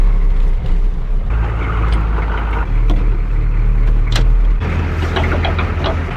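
A pickup truck idles and creeps slowly forward to tighten a strap rigged to pull on part of a 200-year-old farmhouse, its steady low engine rumble loud and close, with no talk.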